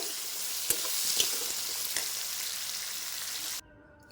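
Food frying in oil in a pan is stirred, giving a dense, close hiss and sizzle with a few scraping clicks of the spoon. The sound runs steadily for a few seconds, then cuts off abruptly.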